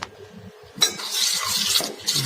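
A spoon scraping and clinking against a bowl as masala is mixed with hot water, in short close stirring strokes with quiet gaps between them.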